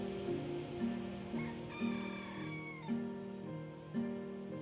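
A rooster crows repeatedly with strong, sustained harmonic calls at moderate loudness, heard alone with no talking and faint background noise.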